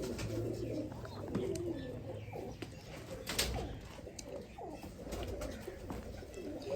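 Sialkoti pigeons coo softly and repeatedly against a busy outdoor background in Isa Khel, Mianwali, with occasional flutters and faint voices mixed in.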